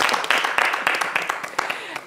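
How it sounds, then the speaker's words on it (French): An audience breaks into a short burst of applause, with dense, close clapping that is loud and choppy for about two seconds. "Bon, on applaudit quand même."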